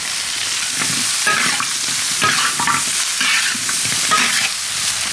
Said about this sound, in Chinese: 炒香之后，我们把刚才准备的这些配料，黄瓜、青红辣椒还有洋葱放进去